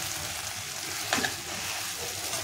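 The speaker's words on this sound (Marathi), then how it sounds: "सगळे पकोडे त्याच्यामध्ये सोडून देणार आहोत आणि छान असं परतून घ्यायचं आहे त्याच्यामध्ये" Cabbage pakoras are stir-fried in masala, giving a soft, steady sizzle with a brief scrape of the spatula midway, close by and without talk.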